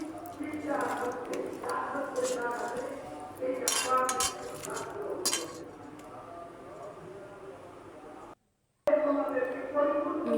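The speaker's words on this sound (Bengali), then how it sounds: "এবার সবগুলো উপকরণ ভালোভাবে মিশিয়ে নেব" Hilsa bhapa ingredients with green chillies being mixed in a bowl, with soft squishing and clinks of utensil against bowl, interrupted by a brief silent gap.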